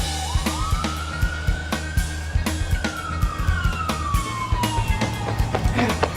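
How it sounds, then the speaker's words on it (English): Wailing police sirens in a film scene rise and fall steadily over a busy backdrop of rhythmic thumps and low rumbling, loud and close throughout. "Why are there sirens going off in this scene?"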